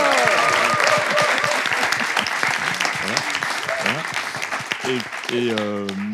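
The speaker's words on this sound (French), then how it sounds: "On peut s'applaudir." Audience claps for a university group after its competition wins, a sustained burst of applause with voices and speech rising over it toward the end.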